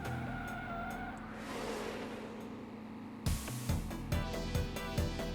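Car drifting and skidding in the retro racing game Slipstream, with a steady engine drone and tire noise, then a run of rhythmic punchy bursts near the end, loud and up close.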